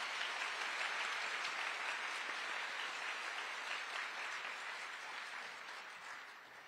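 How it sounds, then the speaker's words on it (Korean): A crowd at the 63rd anniversary ceremony of the 3·8 Democratic Uprising in Daejeon gives steady, dense applause from many hands. The clapping carries on evenly, then slowly fades toward the end. "열창해 주신 가수 솔지님과 대전 지역 학생 학천단께 다시 한번 큰 박수"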